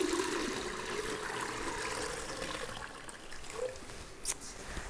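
Water mixed with floral preservative being poured into a vase for a fresh-cut poinsettia arrangement, a quiet continuous trickle and splash with a faint clink near the end.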